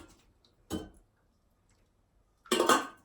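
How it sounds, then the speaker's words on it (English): Cooked food for a vegetarian lasagne strained into a colander: two short metallic clattering bursts, a brief one early and a louder, longer one near the end, with near silence between. "But I'll strain it into the colander."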